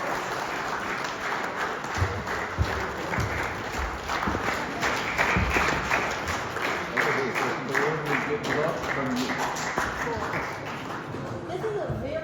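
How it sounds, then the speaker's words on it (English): An audience in a college hall applauds a young professor and his father at a talk on Ramanujan and infinite series in Nepal. The clapping is sustained and moderately loud, with faint voices and shuffling underneath. "Let's give them a big round of applause."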